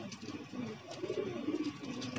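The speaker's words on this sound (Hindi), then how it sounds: "3 कबूतर आ चुके हैं," Three pigeons perched in hot weather give soft, low rolling coos, a couple of short warbling phrases heard close over quiet background noise.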